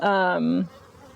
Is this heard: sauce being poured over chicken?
no